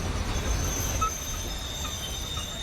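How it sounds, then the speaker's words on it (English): A train from the WW2 Rebuilder game rolls into a station, a steady low rumble with faint high wheel squeals and a brief metallic chirp, with no voices. "Train coming in."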